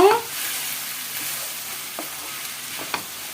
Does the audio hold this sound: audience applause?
no